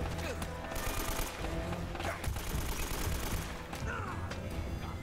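Rapid gunfire from the Uncharted: Drake's Fortune video game on PS4, with dense overlapping shots crackling steadily throughout at moderate level.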